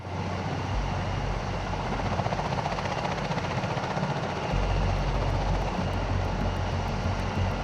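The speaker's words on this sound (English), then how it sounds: "this aircraft has been used only by the US Navy and the Japan Ground Self-Defense Force for troop transport" Military troop-transport aircraft of the kind flown by the US Navy and Japan Ground Self-Defense Force, a continuous loud roaring engine drone with a throbbing rotor-like pulse, steady and near, no talking.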